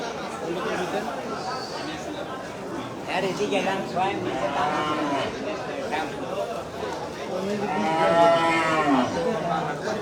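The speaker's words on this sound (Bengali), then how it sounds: "খুব সুন্দর সুন্দর গরু উঠেছে আজকে এখানে" Cattle at a busy livestock market in Saidpur lowing repeatedly, several deep moos rising over constant crowd chatter and people talking nearby, with one louder, drawn-out moo near the end.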